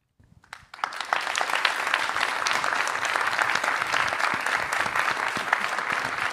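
After a brief quiet moment, dense, steady applause from the audience at an HEC Débats event with Ginette Kolinka swells up and carries on evenly, full and close, with no voices over it.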